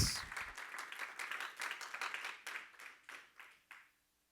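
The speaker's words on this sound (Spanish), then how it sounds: "Dale palmas." A church congregation claps together in a brisk, roughly rhythmic burst that thins out and fades to silence after about four seconds.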